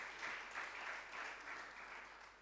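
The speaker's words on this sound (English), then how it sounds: "a round of applause" Audience clapping at a secondary school debate event, an even burst of applause that fades slightly toward the end, moderately loud and free of speech.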